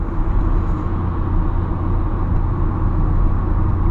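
A 2002 Volkswagen New Beetle 1.4i 16v with 75 hp drives at speed on a road, giving a steady low engine drone mixed with road and wind noise from inside the cabin, with no talking.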